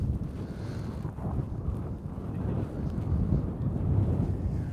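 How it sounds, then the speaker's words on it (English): Strong wind gusts buffet the microphone at a volcano, a steady low roaring rumble that swells slightly over the few seconds with no voices. "It's much windier than last time."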